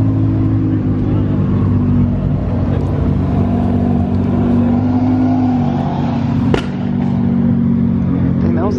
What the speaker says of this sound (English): Oh, a GTR.